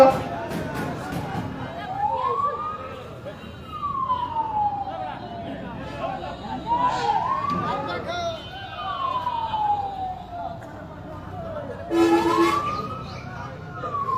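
An ambulance siren on the road wails in repeated rising and falling sweeps, moderately distant, beneath crowd murmur and a voice over a loudspeaker at an outdoor gathering.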